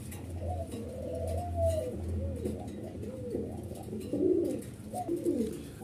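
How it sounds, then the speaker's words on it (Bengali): A pair of yellow Siraji pigeons coo repeatedly up close, soft throaty rolling calls that rise and fall in several bouts over a low background hum. "আপনি স্ক্রিনে দেখতে পাচ্ছেন একজোড়া হলুদ সিরাজি কবুতর"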